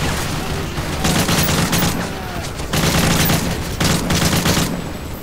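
Rapid bursts of automatic gunfire in the Modern Warfare 3 video game come in dense, loud volleys with brief lulls between, crowding the whole stretch.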